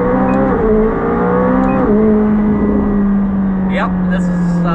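McLaren 765LT accelerating hard, a loud rising and falling engine note with whining harmonics heard from inside the car, with people talking over it.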